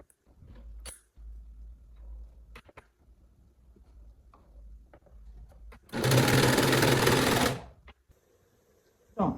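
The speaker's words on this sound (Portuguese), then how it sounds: "Aí eu vou passar a costura aqui." A sewing machine runs a seam on a one-shoulder blouse in a single loud burst of rapid, steady stitching lasting a couple of seconds, set apart from quieter handling noises.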